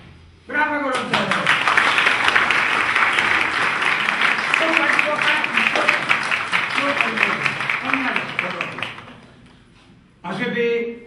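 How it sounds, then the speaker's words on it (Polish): Warm audience applause at a staged patriotic performance, a dense burst of rhythmic clapping lasting several seconds between stretches of someone speaking, with the clapping fading before he resumes. "Brawa gorąco!"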